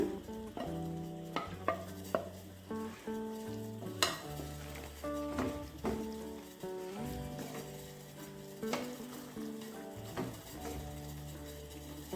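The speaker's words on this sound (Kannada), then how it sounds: "ನಾವೀಗ ಫ್ರೈ ಮಾಡ್ಕೊಂಡಿರುವ ಒಂದು ಈರುಳ್ಳಿ ಮತ್ತು ಕ್ಯಾಪ್ಸಿಕಮ್ ಕೂಡ ಸೇರಿಸ್ಕೊಳ್ಳೋಣ" Fried onion and capsicum being stirred in a pan for a restaurant-style veg kadai. A soft sizzle and occasional scraping clinks sit beneath prominent tonal music that plays throughout.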